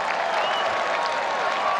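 A golf tournament gallery applauds, a dense, steady patter of many hands clapping at moderate distance, with no speech over it.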